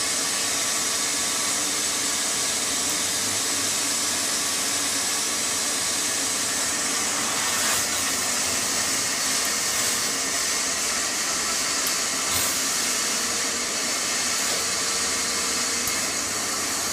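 Steady high-pitched roar of a carpet extractor running on a floor mat, loud and close, with brief clicks and hiss as water sprays while vacuuming, no voices.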